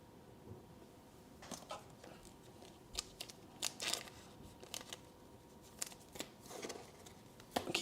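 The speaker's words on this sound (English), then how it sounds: "Keep moving our packs around, shuffling." Soft rustling and crinkling comes in scattered bursts as foil Panini Mosaic and Donruss trading card packs are shuffled and moved around, quiet and close.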